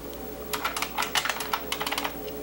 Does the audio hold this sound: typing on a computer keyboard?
yes